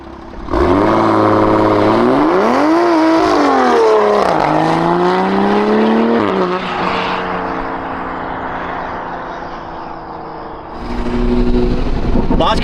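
A Toyota Supra fitted with a drag pack launches hard at 14 psi boost, engine climbing through revs with rising and falling pitch sweeps as the tires spin, then easing off before another loud surge, close and intense.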